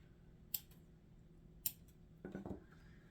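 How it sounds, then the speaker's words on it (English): Scissors snip string on a handmade corn husk doll, giving two sharp, isolated clicks followed by a brief rustle of husk, all close and quiet in a still room. "I have a little bit more string to cut"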